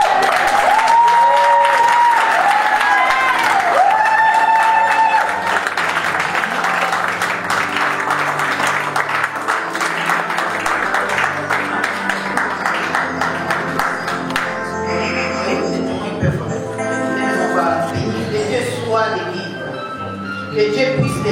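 Applause fills a wedding ceremony, a crowd clapping loudly and steadily while a voice speaks and music plays over it, the clapping thinning toward the end.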